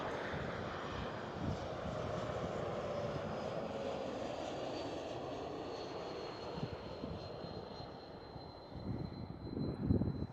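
A KLM Cityhopper Embraer E195-E2 jet at Amsterdam Schiphol produces a steady engine roar with a thin whine drifting across it, swelling louder and rougher near the end as it passes closer.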